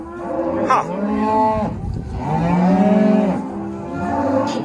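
Several cattle moo loudly and close by during sorting into groups, long overlapping calls following one another with little pause.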